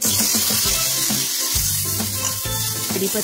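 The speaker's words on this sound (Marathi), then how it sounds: "पुन्हा कढईमध्ये तेल टाकून कांदा," Onion and tomato fry in hot oil in a kadhai, a steady, close sizzle with light crackle and occasional stirring scrapes, no voices.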